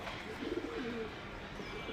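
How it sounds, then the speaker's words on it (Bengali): A Giribaz flying pigeon of an old breed gives a soft, low cooing call, close by and fairly faint, over a quiet outdoor background. "অমিত আরেকটা কবুতর বের করলো, এটা পুরানা জাতের কবুতর"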